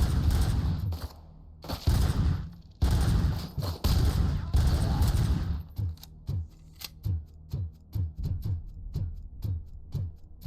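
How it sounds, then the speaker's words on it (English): Rapid bursts of gunfire from Robocop: Rogue City, dense automatic fire at first, then a steady series of sharp separate shots spaced roughly every half second, loud and close. "let me shoot it, come on."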